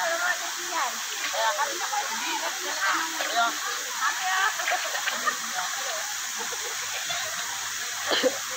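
Free-flowing stream water used for washing clothes rushes steadily with a broad hiss and scattered splashes, while voices murmur faintly underneath.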